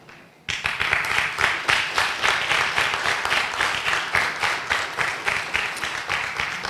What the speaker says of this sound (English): I would like everyone else to receive a round of applause from you